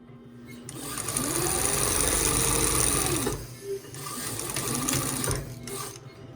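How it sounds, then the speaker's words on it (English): A sewing machine runs fast and close, stitching two fabric pieces edge to edge for a pinafore dress. It whirs steadily in two long bursts with a short pause between them. "I'm going to sew these 2 chunks together, just edge to edge"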